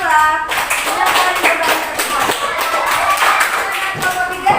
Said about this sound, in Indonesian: Ini tepuk tangan untuk kelompok 2